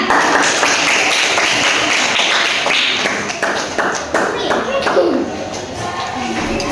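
A classroom group claps hands in a quick, uneven burst that fades out over several seconds, with voices mixed in.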